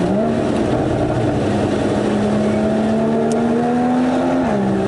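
A loud Porsche Boxster sports car engine revs steadily, its pitch climbing slowly before dropping near the end, a continuous roar heard from inside or close by, on a mountain road in Serra da Estrela.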